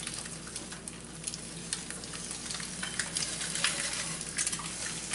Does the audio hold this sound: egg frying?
yes